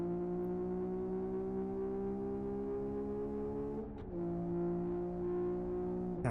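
A race car engine in the Live for Speed driving simulator holds a steady high-pitched drone, dips briefly as if shifting gear, then picks up again at moderate loudness.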